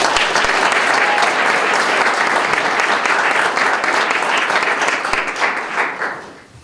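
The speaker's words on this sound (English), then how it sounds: "Let's give them another round of applause." A crowd applauds loudly at a school district celebration of its first electric school buses, in a dense, sustained wash of clapping that fades away near the end.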